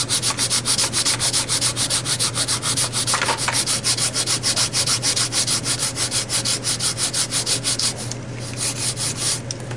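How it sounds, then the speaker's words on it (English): Steady rhythmic sanding strokes across the wing of an RV-6 kit aircraft, close and loud, a fast repeated rasping back-and-forth with no talking. "A little more here needs sanded."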